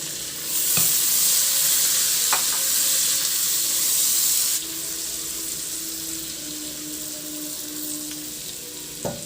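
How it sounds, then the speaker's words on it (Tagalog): Garlic and onion sautéing in a pan for a chicken dish, a steady loud sizzle with a few sharp spoon scrapes as it is stirred, the hiss easing slightly partway through; no voices. "igisa yung bawang hanggang sa mag-brown lang yung bawang o hanggang sa maglabas lang ng aroma"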